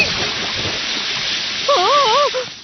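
Hot water splashing and sloshing in an animated Doraemon cartoon, a continuous loud watery rush, with a wavering whistle-like cartoon tone rising over it near the end.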